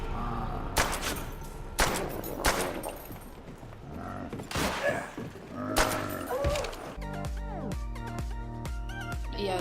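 Rapid gunfire from a video game zombie map, sharp bursts scattered through the clip and then a denser stretch of tonal game sounds near the end, moderately loud with no talking.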